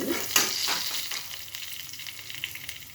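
Vegetables frying in a pan at home, a close, steady sizzle with a few sharp spatters and stirring scrapes early on, softening into a gentle crackle.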